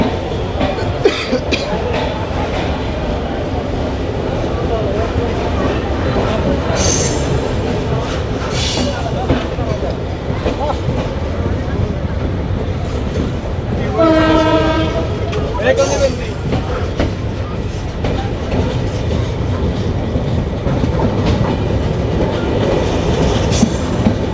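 The Benapole Express pulls out of Bhanga railway station in Bangladesh with a steady rumble and rattle of the carriages. A horn sounds briefly midway, and voices come and go in the background.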